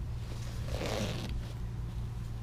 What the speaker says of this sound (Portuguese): zíper.